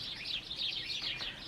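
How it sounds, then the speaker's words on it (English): Sparrows and small hedge birds chirping in a steady, bright chatter of overlapping tweets, fairly close and continuous, with no voices over them. "crescendo of birds, or little hedge birds,"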